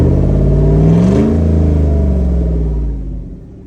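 Loud engine of an SUV fitted with a new cam and tune revs up close, a deep rumbling roar that swells in the first second, holds, then tapers off toward the end.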